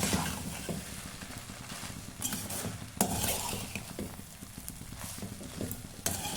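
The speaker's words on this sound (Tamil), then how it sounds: "கிளறி விடவும். அரைப்பதத்தில் நம் வடிப்பதால் கிளறும்போது குழைந்து விடாது." Semiya upma, boiled vermicelli stirred in a pan, heard as close, quiet clinks and scrapes of a spoon against the pan over a soft sizzle, with a few sharper knocks and no talking.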